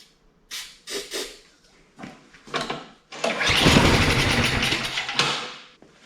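A snowblower engine, primed with ether, sputters through several short pulls and coughs before catching and running loudly and roughly for a few seconds, then easing off.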